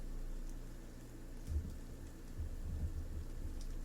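Storm sound effect of steady rain with low rumbles of thunder rolling in twice, moderately quiet and continuous with no voices.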